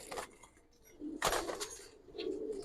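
Old-breed pigeons at a Bangladeshi pigeon seller's loft give soft, low coos in a few short bursts, faint and close.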